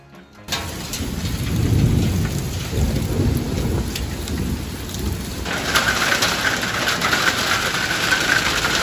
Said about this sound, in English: Severe storms swept across northern Alabama as hail bounced off the ground like white marbles